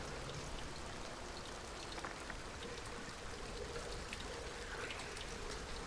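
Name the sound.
thunder shower rain in a video game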